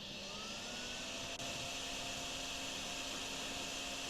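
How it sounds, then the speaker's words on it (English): A vacuum in the Drain Sim video game runs as a constant loud whooshing roar with a steady whine, holding unbroken apart from one tiny dip, and no voices are heard. "we'll just vacuum all the way up here to this planter."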